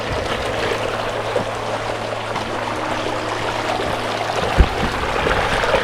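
Spring water runs steadily through an old Moorish irrigation channel cut into the rock near the Balastar waterfalls in Farajan, a continuous close trickling and pouring with no talk and one brief knock partway through.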